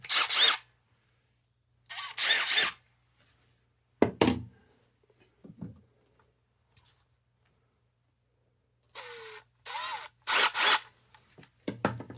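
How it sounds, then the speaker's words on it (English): A cordless power drill running in short bursts, close and fairly loud, several separate whirring spurts with quiet gaps between them. "I think the drill is more responsive than the impact"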